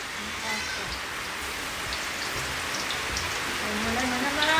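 Steady rain pours down in an even, dense hiss of drops on surfaces, with no pauses and slightly heavier at the end.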